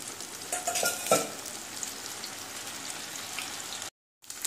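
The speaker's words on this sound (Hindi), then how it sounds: "दूसरा बैज अब हम इसमें डाल देते हैं। तेल हमारा गर्म ही है" Second batch of macaroni deep-frying in hot oil, a steady dense sizzle with a few brief louder crackles and stirring bursts, then a sudden short silence before the frying noise resumes.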